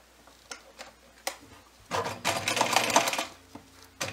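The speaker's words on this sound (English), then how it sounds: "And then I'm just gonna stitch it in." A sewing machine stitching in the lining of a mini Christmas stocking: a few isolated clicks, then a dense two-second run of rapid mechanical stitching up close.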